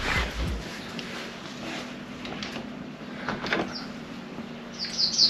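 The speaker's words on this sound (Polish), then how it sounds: "pięknie tu ptaszki ćwierkają" Small birds give a few brief, high chirps near the end at a cliff-top campsite in Chłapowo, faint against quiet outdoor background noise.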